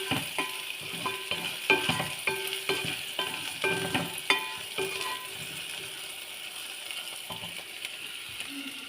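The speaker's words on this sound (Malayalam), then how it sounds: "നമുക്കൊന്ന് റോസ്റ്റാക്കാം." Crushed hot chilli roasting in a pan while being stirred, steady sizzling with repeated scraping strokes of a spoon at an even rhythm, close and clear, the stirring easing off toward the end as the sizzle continues.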